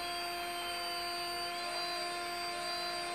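A Tesla Model 3 drive unit electric motor spins on about 60 volts of battery with no vibration, giving a steady, smooth high whine with several sustained tonal lines and a slight pitch shift midway, alone and constant.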